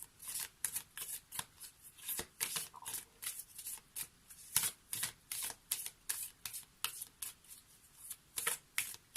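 Oracle cards are shuffled for a reading in quick, rhythmic bursts of crisp riffling and slapping, faint and close, repeating steadily with short pauses between.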